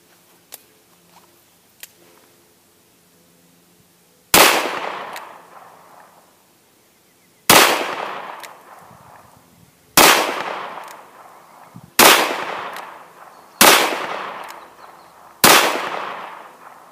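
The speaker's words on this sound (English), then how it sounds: "I'll shoot them single action the first time through." Smith & Wesson 686 revolver firing .38 Special rounds single action, six loud sharp shots spaced roughly two to three seconds apart, each with a ringing decay, alone with no talk.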